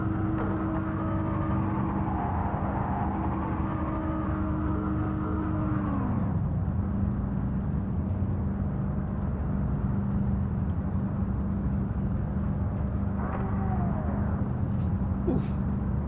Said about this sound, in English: Somebody's just revving the shit out their car.